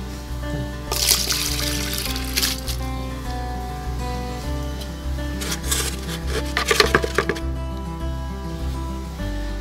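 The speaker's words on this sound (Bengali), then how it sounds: "এবারে আমি সেই আগের পাত্রটি সেটা ঢেলে নেব" Liquid organic plant fertilizer poured from a container, heard as intermittent trickling and splashing bursts over a steady low mechanical hum, with a cluster of wetter splashes toward the end.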